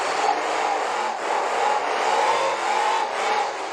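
Race car engine working hard on a dirt track during a B-Main race, a steady broad roar at moderate distance with rising and falling revs, continuous with no clear talk.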